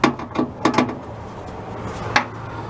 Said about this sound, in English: this adapter on my 1/4-inch drive ratchet so I could reach the screws inside here